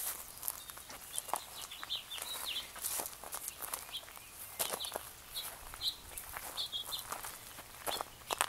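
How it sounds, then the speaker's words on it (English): Chickens cluck and call in short bursts over a busy outdoor bed of scratching and footsteps, with small birds chirping faintly now and then, in the Smoky Mountains. "Rebel chickens."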